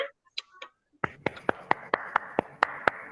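A group of students in a classroom breaks into steady rhythmic clapping after a brief bit of soft speech, the claps close and evenly paced for about two seconds.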